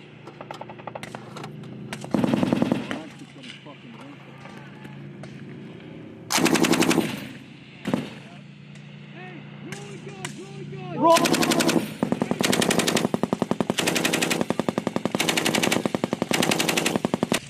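Machine gun fire in a video game, several long rapid bursts between quieter stretches of game sound, with a rattling stream toward the end; loud, close, and with faint talk underneath.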